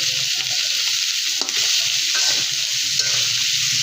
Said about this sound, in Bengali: তো এভাবে নাড়তে নাড়তে সব কিছু একসাথে মিক্সড হয়ে গেল